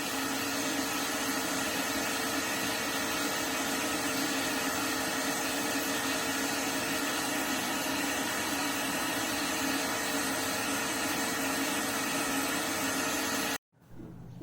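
A small electric motor on a homemade VHS mold-cleaning rig drives a moldy tape, giving a steady, loud whirring hum that runs unbroken before cutting out abruptly near the end, with no talk.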